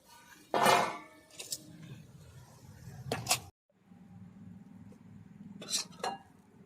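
Pea and potato stuffing being scraped from a pan into a bowl: a few sharp metal spoon clinks and scrapes against cookware, close and quiet, separated by soft shuffling pauses.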